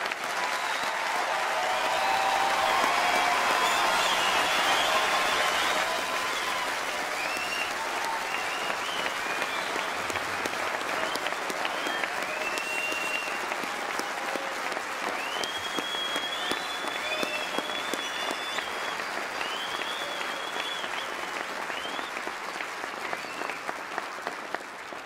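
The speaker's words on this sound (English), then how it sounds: "I'd like us all now to join a great round of applause for our new graduates" A large audience at a university graduation ceremony gives the new graduates a long, sustained round of applause, a dense and steady wash of clapping that fills the hall and slowly thins toward the end.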